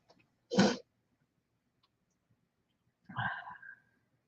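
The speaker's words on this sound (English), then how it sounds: "I have to sneeze." A short, sharp sneeze bursts out of near silence, followed a few seconds later by a second breathy, voiced outburst like another sneeze.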